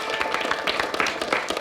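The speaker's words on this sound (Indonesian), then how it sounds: "Kita kasih tepuk tangan." Steady, dense audience applause at a school quiz competition, a continuous crackle of many hands clapping with no voices on top.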